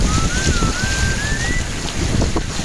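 Strong wind buffets the microphone outdoors in wind and rain, with a constant rushing roar and gusty thumps; a faint thin whistle rises briefly, and no voices are heard.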